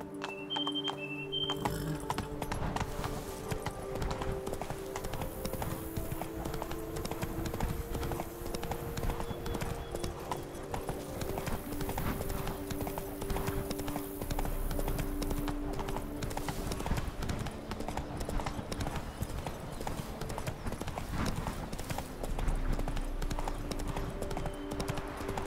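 Roach the horse gallops in Witcher 3, with steady, rapid hoofbeats running through the whole stretch over a sustained musical backdrop and occasional brief voice.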